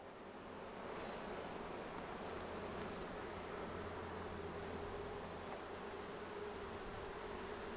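Honey bees buzz steadily around a hive frame while small hives are made up for virgin queens, a dense continuous drone that swells in the first second and then holds level and close.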